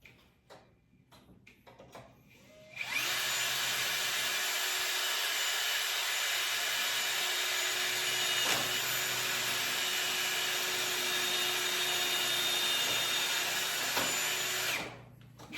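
After a few soft clicks, a power drill whirs steadily at close range for about twelve seconds, then stops abruptly.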